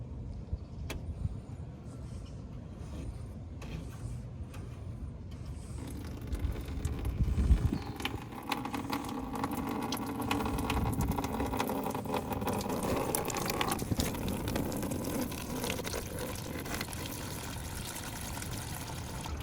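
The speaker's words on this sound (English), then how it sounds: "open this valve with a little drain pan and let the remaining fluid drain out" Coolant drains from an opened valve on a Toyota Tacoma radiator into a small drain pan, a steady, continuous trickling and splashing that grows fuller partway through and runs on without pause.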